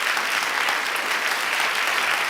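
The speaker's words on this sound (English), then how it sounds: "Yes, applause, please." Studio audience at a late-night comedy talk show applauds, a dense, steady wash of clapping that stays loud and even for the whole stretch with no talking over it.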